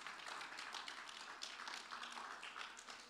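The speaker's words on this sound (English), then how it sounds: "everybody give the Lord a good hand clap of praise" A church congregation claps hands in praise, a dense, steady wash of many overlapping claps heard faint and somewhat distant, continuing evenly without voices.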